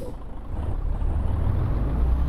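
A truck in Euro Truck Simulator 2 slows under braking, a loud low engine rumble with a hissing brake release at the start, steady and close without talk.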